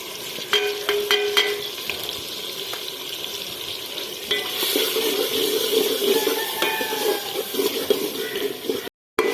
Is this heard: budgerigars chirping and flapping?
no